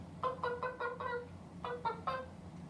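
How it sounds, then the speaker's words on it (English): A big chicken clucks in a quick run of four harmonic calls, a short pause, then three more, fairly close over a low background hum, with no talking. "he looked around and noticed a big chicken sitting on the floor"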